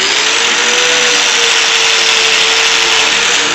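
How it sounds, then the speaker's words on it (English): Angle grinder cutting off the stem of a banana at a forge, a loud, steady high-pitched whine with a sustained tone, held throughout without pause and no talking. "All you're going to need for this is your trusty angle grinder."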